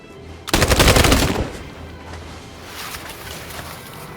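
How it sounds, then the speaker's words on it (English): Gunfire in the video game Detroit: Become Human erupts as a loud, close burst of rapid automatic shots lasting about a second, then a reverberant tail fades into quiet ambience. "Oh shit, they're gonna shoot him."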